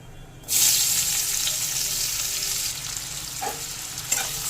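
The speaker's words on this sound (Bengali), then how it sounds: "এবার পেঁয়াজটা একটু ভেজে নেব" Chopped onion hits hot oil tempered with black cumin (kalo jeere) and bursts into a loud, bright sizzle, which eases slightly over a few seconds while a couple of soft stirring clinks sound near the end.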